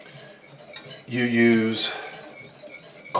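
A whisk stirs butter in a pan over simmering water while beurre monte is made, giving a steady metallic scraping and clinking, with a person speaking over part of it.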